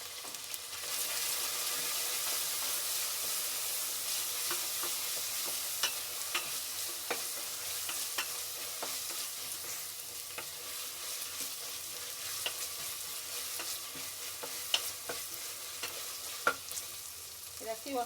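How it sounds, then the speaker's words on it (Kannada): Ginger, garlic and onion stir-fry in a hot pan for dal khichdi, a steady loud sizzle with scattered clicks and scrapes of stirring throughout, no voices. "ಶುಂಠಿ ಬೆಳ್ಳುಳ್ಳಿ ಹಸಿ ವಾಸನೆ ಹೋಗೋವರೆಗೂ ಸ್ವಲ್ಪ ಚೆನ್ನಾಗಿ ಫ್ರೈ ಮಾಡ್ಕೋಬೇಕು."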